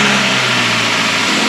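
A Daihatsu car engine is running loud and close with a steady mid-pitched drone that changes near the end, and no one talks over it.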